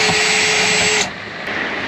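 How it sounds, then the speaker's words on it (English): Cordless power drill whirring at high speed while removing bolts on a shuttle bus, then spinning down after about one second, leaving a lower rushing background; close and loud, with no talk. "I'm gonna pull the drill out."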